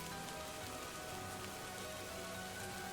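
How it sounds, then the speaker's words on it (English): Steady rain falling on a rainy night, a soft, continuous patter of drops hitting surfaces, faint and even throughout with no voices. "I love the rain"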